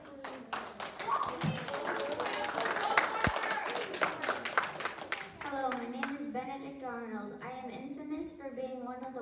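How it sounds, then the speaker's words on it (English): A small group, likely students, gives scattered, uneven applause of distinct individual claps and taps that thins out as children's voices take over. "Let's give him a big round of applause."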